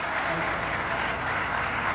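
Audience applause for the winners of a padel tournament at a prize ceremony: dense, steady clapping fills the whole stretch at an even level with no pauses, without any voice rising above it.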